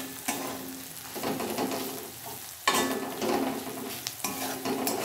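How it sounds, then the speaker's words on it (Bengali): Spinach paste fries in oil with spices in a pan, giving a steady close sizzle broken by scraping stirs and sharp bursts of spitting. "এখন আমি ওই মিক্সিতে পেস্ট করা পালং শাকটা দিয়ে দেব।"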